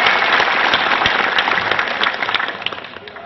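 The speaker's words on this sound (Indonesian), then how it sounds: "Tepuk tangan semua." Crowd at an Indonesian gubernatorial campaign rally in Cirebon claps loudly and steadily, a dense wash of applause that fades slightly toward the end with no voices over it.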